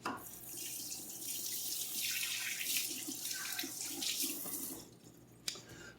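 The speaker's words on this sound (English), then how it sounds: "rinse off the hand again" Water runs steadily from a kitchen tap over hands being rinsed, a continuous close splashing hiss that thins out near the end, followed by a brief clatter.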